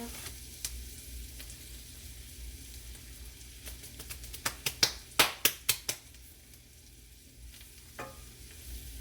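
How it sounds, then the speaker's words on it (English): Vegetables dusted with sprinkled flour are stirred and frying in a pan for rooster and dumplings, a soft sizzle under a burst of sharp scraping clicks from the spoon midway, then quieter sizzling with a final scrape. "we sprinkle some flour on the vegetables and mix it in"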